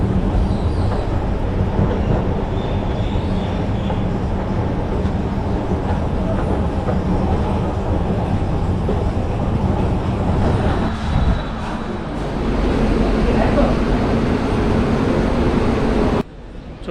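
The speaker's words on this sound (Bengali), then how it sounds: "দুর্গাপুর স্টেশনে প্রবেশ করে গেলাম, আর এখান থেকে আমাকে যেতে হবে 4 নম্বর প্ল্যাটফর্মে।" Ambience on a platform at Durgapur railway station, a constant rumble of trains and crowd murmur with passing clatter, a brief dip near the middle, then a sudden drop at the very end.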